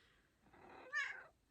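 A house cat lets out a single short, soft meow up close, rising in the middle, with no one speaking.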